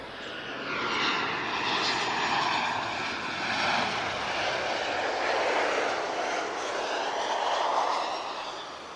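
An Air Europa Boeing 737 arriving from Madrid at Lisbon airport passes with a sustained engine roar and whine, rising and falling in waves at moderate distance.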